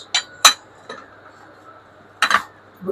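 Bowls clink as they are handled in a shop at Dhaka New Market, with sharp close knocks in small clusters separated by brief quiet and a voice faintly under them.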